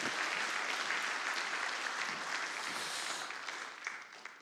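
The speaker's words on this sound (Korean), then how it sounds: "시원하게 불러진 찬양, 뜨거운 박수 한번 보내주시기 바랍니다." Sustained congregational applause fills a church sanctuary after a sung hymn at a Sunday worship service, a dense steady wash of clapping that slowly thins toward the end.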